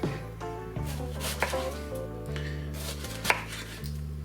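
A knife slices brown onions into half-moon slices on a board, making steady, evenly paced close chopping knocks that carry on without a break. No one speaks.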